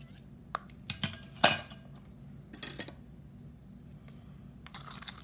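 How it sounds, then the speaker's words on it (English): A spoon clinks against a glass container while stirring scented watercolor paint, giving several sharp, bright taps in uneven bursts against a quiet background. "It's actually easier to stir using the back of the spoon."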